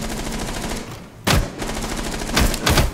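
Several bursts of automatic gunfire from Rainbow Six Siege on the Club House map, a loud crack near 1.3 seconds followed by a rapid volley toward the end, over a steady background bed of game ambience.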